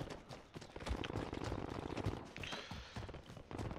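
Rapid crackling blasts and gunfire rattle through a firefight in Call of Duty Warzone, a dense stream of sharp pops and booms at a moderate distance, continuing steadily with no one talking.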